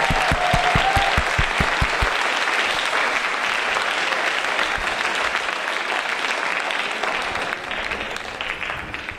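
An audience at a spring school band concert applauds in a full, steady round that holds throughout and slowly fades, with bass drum hits at the start.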